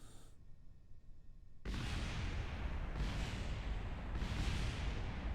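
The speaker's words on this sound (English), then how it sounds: "A good day in Kerbal Central when there's just explosions everywhere." Explosions in the video game Kerbal Space Program: a sudden loud, roaring blast after a quiet start, then sustained rumbling with two more swelling bursts.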